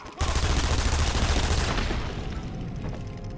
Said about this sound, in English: Probably none of them heard those gunshots.